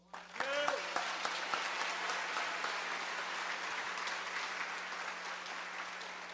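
A church congregation bursts into applause during a sermon, opening with a brief raised voice and then settling into sustained, even clapping that fills the room.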